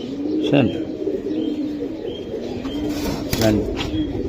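A pair of silver Giribaz pigeons coos at close range in soft, repeated low calls, with people talking nearby.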